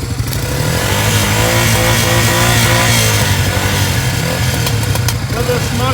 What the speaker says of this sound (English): Bike's running.